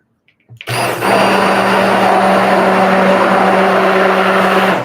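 A blender whirs steadily for about four seconds, mixing a soap mixture; the loud motor starts abruptly after a brief silence and holds a constant hum, with no talking.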